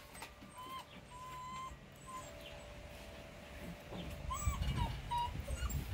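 Young Rhodesian Ridgeback puppies whimper in thin, high cries, several short whines scattered through the stretch, fairly faint, with some low rustling building toward the end.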